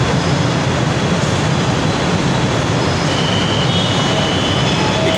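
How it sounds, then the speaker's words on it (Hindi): A Lahore Orange Line metro train at a station fills the clip with a loud, steady rumble and roar, with faint high whining tones running through it and no talking. "ये ट्रेन आ गई है और ट्रेन के गेट्स खुल रहे हैं।"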